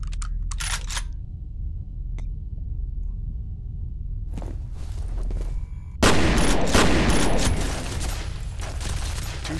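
Gunfire from the FEAR first-person shooter game: a few sharp shots early on, quiet stretches, then a loud, dense burst of shooting and debris noise toward the end.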